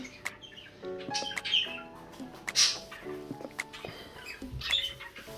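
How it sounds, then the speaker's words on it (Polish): Small pet birds chirp in brief, high tweets over a steady indoor apartment background hum, with a few scattered squawky calls spread across the clip. "tutaj ptaszki właściciela"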